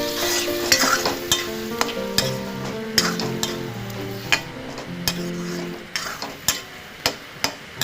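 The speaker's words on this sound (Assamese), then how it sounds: "বইল কৰি থোৱা আলুখিনি অকণমান সেনেকৈ পেলাই দি ল'লোঁ আৰু দি লৈ অকণমান ভাজি ল'ম গোটেইখিনি" Boiled potatoes frying in a pan, a steady sizzle under repeated sharp scrapes and knocks of a spoon stirring against the metal, close and fairly loud throughout.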